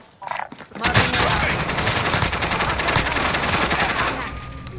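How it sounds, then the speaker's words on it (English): Rapid automatic gunfire in a video game rattles in a dense, sustained burst after a brief pause, loud and close, with a few earlier isolated shots. "Good shooting. Good kill."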